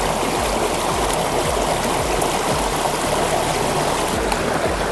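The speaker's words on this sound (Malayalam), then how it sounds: "അപ്പോൾ നല്ല ഒഴുക്ക് വെള്ളത്തിൽ കഴിവണം എന്നാലേ ഇതിൻ്റെ അഴുക്കെല്ലാം പോയി കിട്ടുകയുള്ളൂ" Mutton tripe being rinsed under a strong stream of running tap water, a steady, loud, continuous rush and splash with no talking.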